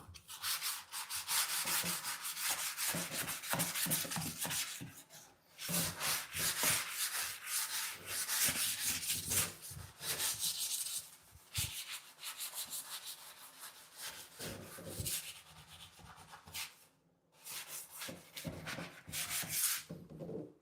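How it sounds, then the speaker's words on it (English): Sanding the underside of a bathroom windowsill: close, rhythmic back-and-forth abrasive strokes that continue for long stretches, broken by a few short pauses. "I'm just gonna sand underneath the windowsill."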